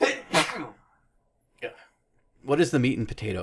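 A single sharp sneeze bursts out between stretches of male conversation, close and loud, with speech resuming right afterward.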